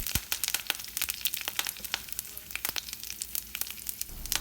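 Curry leaves crackle in hot oil with mustard seeds and chana dal while cooking ladies finger curry. A steady, close sizzle is broken by sharp, irregular pops and spits.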